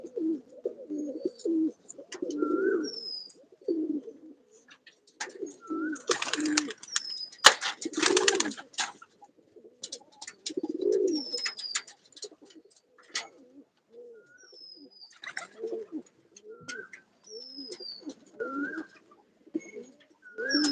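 Pigeons released in the morning coo in low repeated phrases while wings flap in bursts of loud clatter, with a few higher chirps scattered between.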